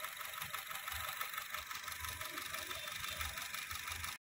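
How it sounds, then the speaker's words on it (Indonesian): A Honda Mobilio engine idles smoothly after a cleaning, with a quiet, even hum and a steady light ticking of the fuel injectors running throughout, close by and without any voices. "mesin halus sekali, hanya terdengar suara injektor saja, suara mesinnya tidak terdengaran"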